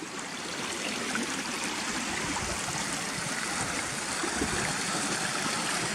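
A stream below waterfalls near Gunnerside, running down through a pipe under a track toward the River Swale, gives a close, continuous rushing and trickling babble.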